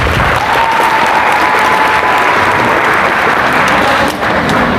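Applause at a volleyball academy's end-of-season celebration, a loud, continuous wash of crowd clapping that stays steady throughout.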